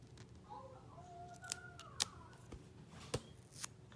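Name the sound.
scissors cutting ostomy tape in half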